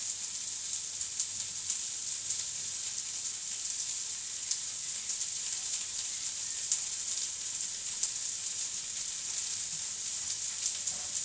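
Pepper and spring onion sizzle steadily in a hot frying pan for a sweet and sour chicken stir-fry, a constant close hiss with small crackles throughout and no talking.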